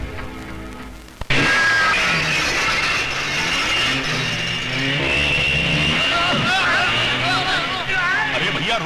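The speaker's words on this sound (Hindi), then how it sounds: "अरे भैया, मोटरसाइकिल सवारो, मेरे घर को हाईवे समझकर घुसे चले आ रही हो?" Motorcycles ride into a house with a sudden loud onset of continuous engine roar and mechanical rattling, while voices sound underneath.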